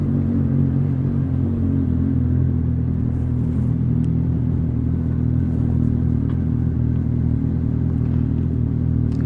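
A Suzuki GSR750 motorcycle with a Yoshimura R11 exhaust is ridden at night. A steady, loud, low engine drone with rumble holds throughout at cruising speed, with light clatter and no speech.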